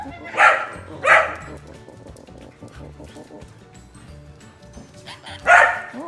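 An Australian Labradoodle barks sharply three times at close range, two quick barks then a pause before a third, over a quiet room with faint background noise.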